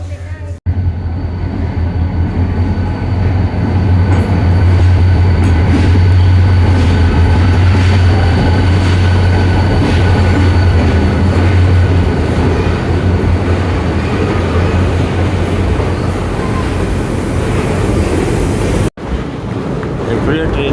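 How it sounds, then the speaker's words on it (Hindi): The Green Line Express passes through a station between Hyderabad and Karachi as a loud, steady rumble and roar that lasts throughout, with wind buffeting, ending abruptly. "ट्रेन जा रही है और इसका अलग ही वाइब है"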